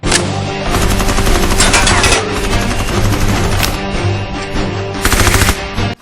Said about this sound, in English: And then a gunfight starts.